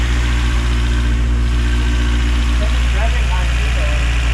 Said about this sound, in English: Listen to this stuff, listen to the exhaust.